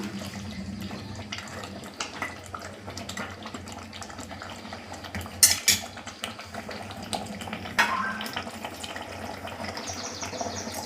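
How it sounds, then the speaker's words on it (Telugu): Water poured into a pan of mutton bagara curry in a home kitchen, a steady pouring and splashing with a few louder clatters of the pan midway, heard alone without talk. "వాటర్ పోసుకుందాం"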